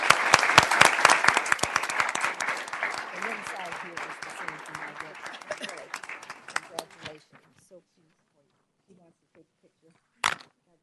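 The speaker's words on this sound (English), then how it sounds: "Would you give her a great round of applause?" Enthusiastic round of applause fills a city council meeting chamber, dense clapping for about seven seconds before thinning out, followed by scattered quiet sounds and one brief burst near the end.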